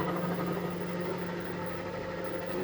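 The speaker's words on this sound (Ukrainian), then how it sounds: "Кулери крутяться, охолоджують, мікроволновка працює." Cooling fans of an ECG SOLAX 1800 W 12 V hybrid inverter whir alongside a running 1080 W microwave, a steady, even hum with a constant low tone and no pauses.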